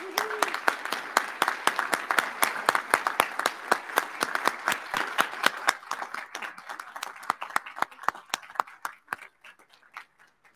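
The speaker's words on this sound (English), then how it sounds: "Please join me in a round of applause for the Sisters of St." An inauguration audience applauds the Sisters of St. Francis of Assisi, starting as dense, strong clapping that thins over time into scattered individual claps before fading out.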